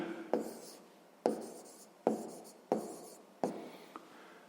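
Pen writing a maths solution down in a notebook, close and quiet, in five or six distinct scratchy strokes spaced about a second apart, each fading quickly, with no talking.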